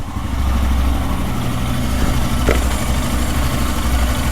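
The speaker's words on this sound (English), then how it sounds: "Exhaust." Close, steady idling of a Royal Enfield Himalayan motorcycle exhaust, a continuous low throb with one short sharp click midway.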